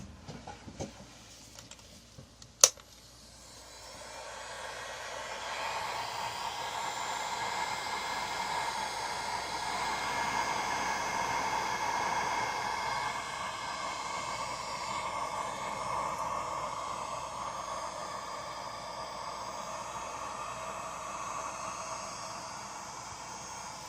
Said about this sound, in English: I should be able to hit it with the heat gun by now